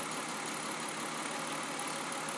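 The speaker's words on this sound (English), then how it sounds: "you can hear and see that the RPM is changing, and it has a definite effect on the engine" A car engine idling with an ignition coil unplugged and running rough, a steady dense hum at close range with no voices.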